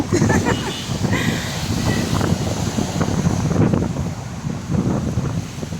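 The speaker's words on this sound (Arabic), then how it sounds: "أهو الموج بدأ أهو" Stormy wind buffets the microphone along the Alexandria seafront during a winter storm while sea waves surge and crash onto the coast in a continuous loud roar.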